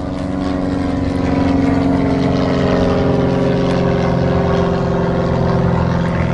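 Steady, loud engine drone with a droning propeller-like tone heard near an airport, continuous and unbroken with no talking over it.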